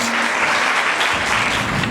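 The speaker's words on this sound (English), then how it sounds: "Come on and give yourselves a hand." Audience at a FaithNet 2013 church gathering applauding, a dense, loud, continuous wash of clapping filling the whole moment.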